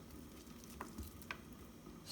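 Quiet, steady sizzling of sliced onions frying in olive oil in a pan, with a few soft clicks and scrapes.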